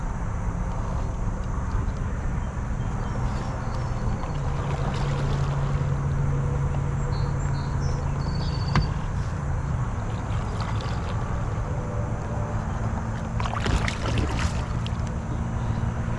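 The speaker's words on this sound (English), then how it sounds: "Trolling motor is a little more difficult than the pedals were, but it ain't too bad." Newport 36 lb electric trolling motor pushing a kayak across the water, a steady close hum with constant water wash that holds at an even level throughout, with no talking.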